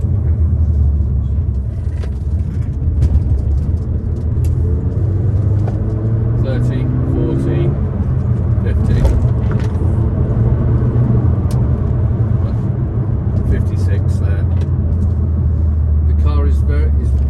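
A 2014 Peugeot RCZ sports car slows and downshifts into third gear, heard from inside as a steady, loud engine and road rumble with shifting engine tones, while someone talks throughout.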